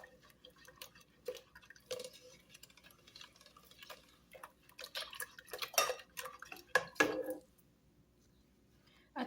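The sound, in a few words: mixing mango jelly cake ingredients in a bowl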